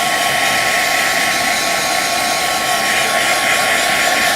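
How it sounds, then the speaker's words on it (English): A heat gun blows steadily to dry a stamped card panel, a loud, even whooshing hiss that holds for about four seconds with no voices. "I'm going to go ahead and hit this with the heat gun"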